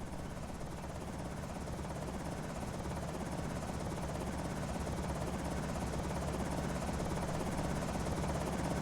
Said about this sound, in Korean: 헬기 떴다